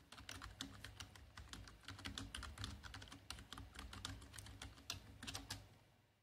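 Close, quiet typing on a computer keyboard: rapid irregular key clicks in bursts with short pauses, steady for several seconds over a low room hum, no voices.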